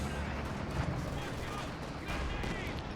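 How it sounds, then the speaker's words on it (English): A grenade bursting amid dense battlefield gunfire in Company of Heroes 2, loud continuous booming and rattling shots filling the whole stretch. "Grenade being popped off there."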